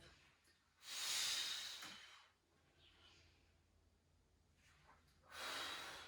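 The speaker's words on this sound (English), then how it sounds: "Can't do it without heavy breathing" Two loud, breathy exhalations during a Pilates arm exercise, one near the start and one at the end, with quieter breathing in between and no talk.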